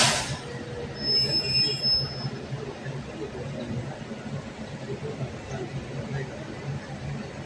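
A passenger train pulls into Chandisar station near Palanpur, a brief high metallic wheel squeal at the start, then a steady rolling rumble of railcars, close and moderately loud.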